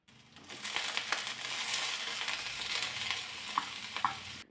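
Finely chopped cauliflower stir-fried in a pan, a dense continuous sizzle and crackle with scraping stirs and a couple of sharp clinks, close and fairly even throughout, no talking.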